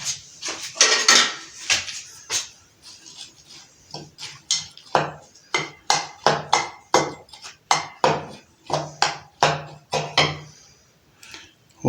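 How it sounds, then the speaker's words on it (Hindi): A spoon stirring almonds into sifted flour and baking powder in a bowl for a dry fruit cake, with a loud, close run of rhythmic clinks and scrapes against the bowl, and no talking. "तो अभी हम इसमें बादाम ऐड कर देते हैं, इनको अच्छी तरह से बीच में मिक्स कर देते हैं।"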